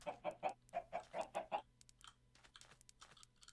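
Minecraft chickens cluck in a quick series of about eight close, evenly spaced bursts, followed by softer, scattered game sounds and faint clicks.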